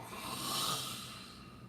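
A single long, breathy exhale through the mouth during a guided breathing exercise, soft and close, swelling and then fading with an airy hiss.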